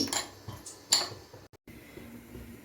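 A metal spoon clinks and scrapes against a bowl a few times while mixing chili powder and ginger paste, soft and close, followed by a brief silence.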